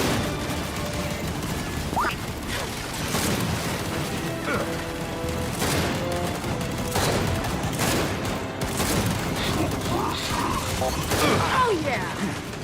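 Gunfire in Gears 5 as a squad focuses on a Scion enemy, rattling steadily for the whole stretch amid clanks, impacts and game effects, with voices calling out underneath.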